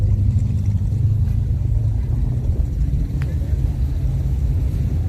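Deep, steady low rumble of a Corvette engine at an Ocean City spring hot rod weekend, a continuous throaty drone close by, holding level with slight swells across the whole stretch.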